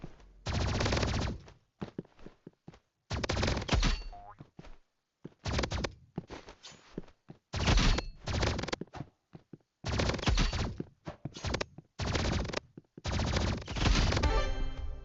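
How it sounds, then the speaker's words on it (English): Energy pistols fire in the video game Rivals in loud, close bursts of rapid shots that start and stop in clustered volleys separated by short silences, with no voices. "I took somebody out with the energy pistols"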